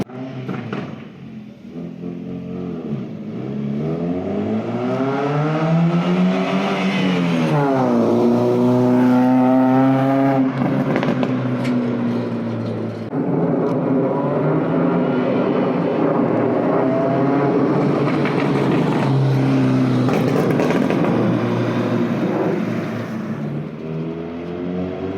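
A modified Ford Figo with a throaty aftermarket exhaust passes by, engine note rising and falling as it accelerates past, loud and close, with several swelling pitch sweeps and no talking.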